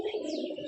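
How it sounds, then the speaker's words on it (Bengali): Flying pigeons kept by a fancier coo in a short, close, steady burst, with no speech. "এই দেখো আমার পায়রা সব, এই যে সব বাজির পায়রা"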